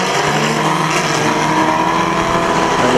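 Pre-1975 banger race cars roar around a short oval track at Kings Lynn, engines loud and close with a rising and falling rasp as they turn into the home straight.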